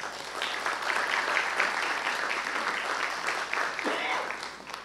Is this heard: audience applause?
yes